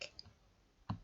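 A computer mouse gives two quiet, sharp clicks, one at the start and one near the end, in an otherwise near-silent room.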